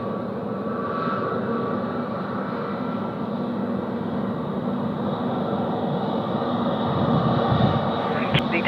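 A Korean Air Boeing 787-10 at Sydney Airport gives a steady, loud engine roar with broadband rumble and whine that swells slightly toward the end, heard at a distance without talk.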